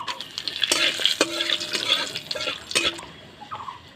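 Cinnamon, cardamom and cloves fry in hot oil in a kadai for moong dal, a close sizzle broken by several clattering stirs and scrapes of a spatula against the pan.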